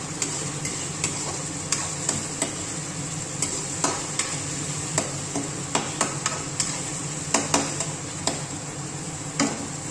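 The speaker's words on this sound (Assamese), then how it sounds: "আদা নহৰুখিনি অলপ ভাজি ল'ম।" Ginger and garlic frying with browned onions in a pan for a pork and bamboo shoot curry, with a constant close sizzle and a regular series of sharp spatula knocks against the pan as it is stirred.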